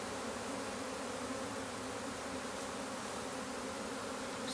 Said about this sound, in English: We'll see what happens with this if the bees decide to stay here or what.